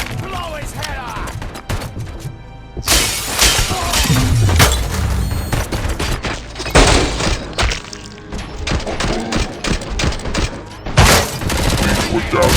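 Heavy automatic gunfire and crashing impacts from the RoboCop: Rogue City video game, loud and nearly continuous in dense bursts with brief gaps, a voice speaking over the shooting.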